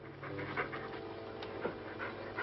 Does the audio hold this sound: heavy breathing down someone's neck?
yes